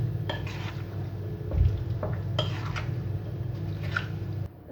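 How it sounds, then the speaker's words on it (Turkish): A utensil stirs a chicken, chickpea and yogurt noodle salad in a bowl, giving soft squishy mixing sounds with sharp clinks and scrapes against the dish, close and moderate, without talking. "Salatamı da karıştırıyorum."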